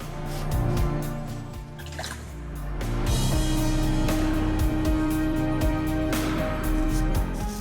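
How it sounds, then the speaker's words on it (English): A razor rinsed under running water during a shave, giving a steady splashing, dripping flow that swells after a brief lull and continues to the end, close and fairly loud. "Wet the razor"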